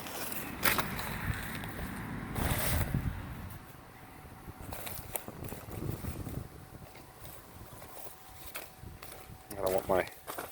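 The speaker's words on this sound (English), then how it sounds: "Kind of windy out today, but it's beautiful." Wind gusting outdoors on a day of digging, buffeting the microphone in loud rough bursts with calmer stretches between, while someone talks.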